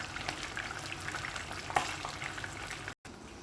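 Tilapia frying in a pan gives a steady, soft crackling sizzle with scattered pops, close by and fairly quiet, with no talking.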